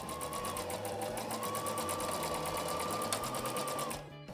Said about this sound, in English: On the left side, I only sew to the balance mark, leaving the rest open for the zip.